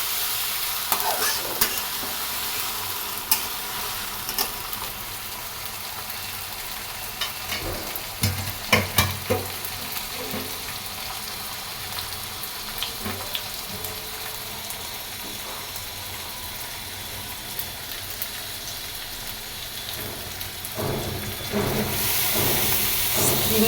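Ginger garlic paste fries in a hot pan with a continuous sizzle and hiss, broken by occasional stirring clinks and scrapes, close and steady with no talking.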